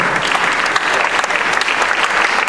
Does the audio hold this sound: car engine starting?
no